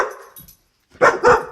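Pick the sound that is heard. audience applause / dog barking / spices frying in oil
dog barking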